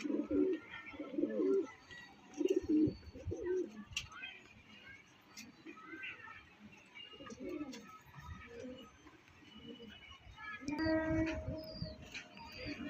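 A male pigeon gives soft, low repeated coos in short bouts, close by and fairly quiet, with a person talking in between.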